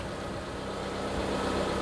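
A car engine runs steadily at close range with water coming out of the exhaust, a continuous low idle-like rumble with no talk over it.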